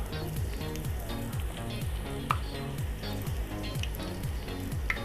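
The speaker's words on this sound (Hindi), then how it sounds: "हल्का सा गोल्डन कलर आने तक हम पूरी को फ्राई करेंगे" Poori frying in hot oil gives a steady bubbling sizzle with regular rhythmic sloshes as the puffed bread is basted, a close, moderately loud, continuous sound with no talk.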